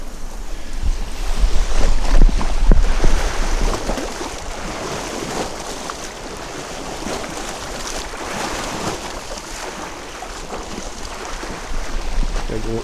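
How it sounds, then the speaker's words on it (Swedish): Lake water sloshing and lapping against shore stones in strong wind, with close, irregular splashes over a constant gusty wind rush that swells louder at the start and end. "Här har vi ett ställe där det skvalpar till."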